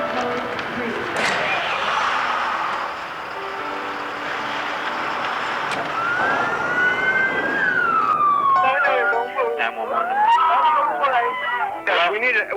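An ambulance siren responding to a major traffic accident, wailing and sweeping up and down, then switching to rapid yelping tones, loud over busy background noise with voices.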